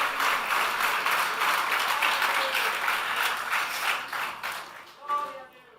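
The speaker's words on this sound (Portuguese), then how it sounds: "Pode aplaudir, isso é para ele" Church congregation applauding, a steady wash of many hands clapping for about five seconds before it fades, with a voice murmuring under it at the end.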